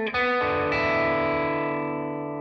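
An electric guitar in open E tuning rings out with one bright, jangly strummed chord, coloured by effects and slight distortion, sustaining and slowly fading over a couple of seconds.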